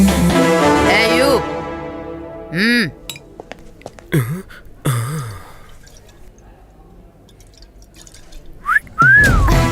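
Several short whistles with rising and falling pitch, interspersed with voices and clinking sounds, close and fairly loud.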